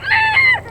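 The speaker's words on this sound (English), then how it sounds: "This is about half of the chickens." Homestead chickens calling over a steady low hum, a short harmonic squawk or two close to the microphone, with fowl-like clucking tones.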